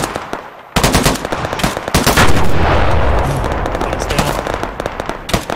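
Sustained machine gun fire in a combat video game set in Afghanistan, 1980: loud, rapid bursts that start abruptly and rattle on almost continuously to the end.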